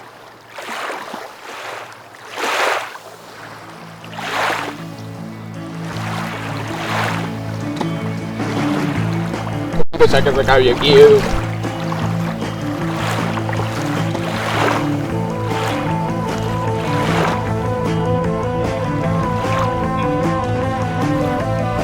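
A rowing boat out at sea, with oar splashes and lapping water that keep recurring and near, while a voice speaks briefly over it and a steady low music bed runs underneath.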